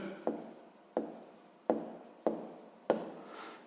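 A pen or pencil works across paper while solving a sixth-grade maths exercise, five distinct scratchy strokes at a loose steady pace, close and fairly quiet with no speech.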